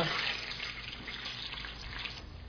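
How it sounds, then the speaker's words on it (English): Golgappas frying in a big pan of oil over medium heat, a steady dense sizzling hiss that stays close and loud throughout with no talking. "You have to fry them in a medium heat"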